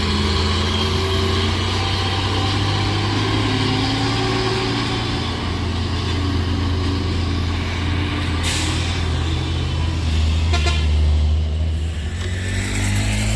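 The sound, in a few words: heavy tronton truck driving uphill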